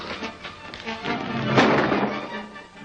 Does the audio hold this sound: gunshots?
yes